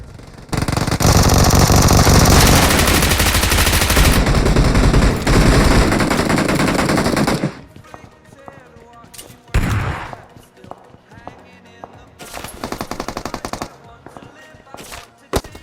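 Loud, sustained automatic gunfire from a BGMI battle-royale match fills the first half in dense bursts, then gives way to scattered single shots and short volleys at lower level.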